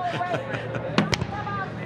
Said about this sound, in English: The fireworks display is deafening where we're commentating from.